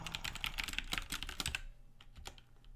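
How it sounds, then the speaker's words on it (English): Fingers rattle quickly across a computer keyboard in a dense run of close, crisp key clicks that tapers to a few scattered taps on a faint, quiet background. "I can just type that one out"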